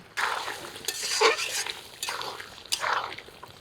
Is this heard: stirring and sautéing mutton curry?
yes